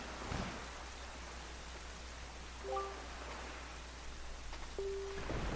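Steady rain falls in The Legend of Zelda: The Wind Waker as an even hiss throughout, with a couple of faint tonal chimes partway through and no talking.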